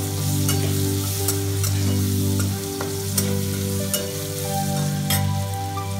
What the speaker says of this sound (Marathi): त्याच्यानंतर लगेचच आपल्याला टोमॅटोच्या मोठ्या मोठ्या फोडी टाकायच्या आहेत